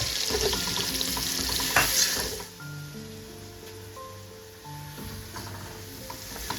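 Garlic and ginger paste sizzles in hot oil in a pan while cooking for kadhi pakora, a steady close frying hiss that flares briefly and then settles into a quieter crackle with some stirring.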